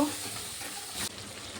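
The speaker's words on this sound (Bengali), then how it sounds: "মশলাটা ভালো করে কষে নেব।" Spice paste of ginger-garlic paste, salt, turmeric, chili and roasted cumin powder with a little water cooking down in a pan for goat curry, a soft steady sizzle with a brief stirring scrape, close and quiet.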